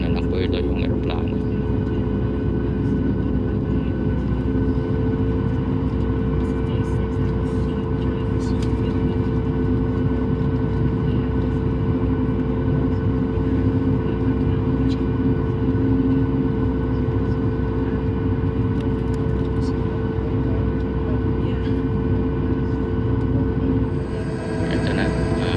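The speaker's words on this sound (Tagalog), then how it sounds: "Ito na, nag-warm up na yung aeroplano." Steady, loud airplane engine drone heard from inside the cabin by a window over the wing as the engines warm up before takeoff. A constant low rumble and whine continue throughout.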